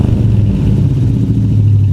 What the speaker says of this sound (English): We wanted it to sound like a hot rod.